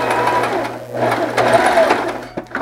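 A sewing machine stitching elastic onto a fabric face mask, a close, continuous mechanical whir with a brief pause midway.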